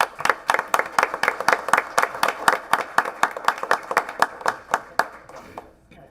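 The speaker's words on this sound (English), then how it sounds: "Can we give her a round of applause?" Audience at a board meeting claps for an honoree: a steady run of sharp, close hand claps from a modest group, loud and rhythmic, tapering off near the end with no talk.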